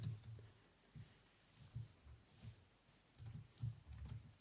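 Quiet keystrokes tapped on a computer keyboard, a sparse run of soft clicks in short uneven bursts, close but faint with no talking.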